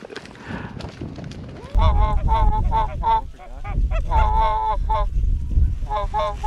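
Geese honking during a North Dakota goose hunt, a close flock calling in repeated bursts of overlapping honks over wind and field noise, with someone talking.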